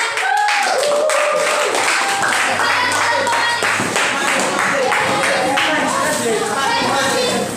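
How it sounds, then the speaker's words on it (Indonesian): Students in a classroom clap their hands together in a steady, loud round of applause that fills the room, with voices mixed in beneath. "Oke, tepuk tangan."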